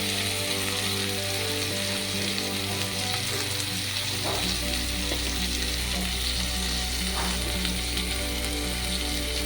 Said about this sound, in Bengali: এখন আমি এর মধ্যে দিয়ে দিচ্ছি টমেটো কুচি,